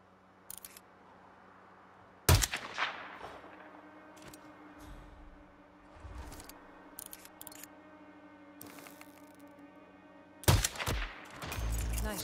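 Sharp suppressed-sounding gunshots crack a few times in Hitman 3's snowy Siberia level, isolated loud bursts separated by long quiet stretches of faint ambient hum.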